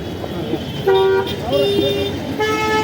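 Busy road traffic with several car horns honking in bursts, one long toot then more overlapping beeps, amid steady engine and street noise.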